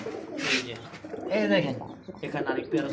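Pigeons coo in soft repeated throaty phrases, close by, while someone talks over them.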